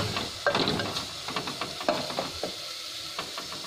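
Fenugreek leaves dropped into a hot pan for a mixed leafy vegetable curry with kabuli chana, giving a steady hiss and sizzle with light scrapes and taps of stirring, close and moderate in level.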